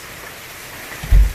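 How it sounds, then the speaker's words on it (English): Steady rain patters softly throughout, with a brief low thump near the end. "Okay, it's raining"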